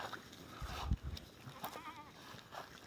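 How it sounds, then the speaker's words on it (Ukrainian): A young goat kid, still nursing, bleats a few times, thin wavering cries over soft rustling and low handling noise nearby in a barnyard. "біленьке то козочка"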